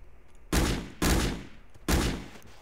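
Gunshots from a video game: three loud, sharp blasts, each decaying over about half a second, with the last two spaced closer together and no talking.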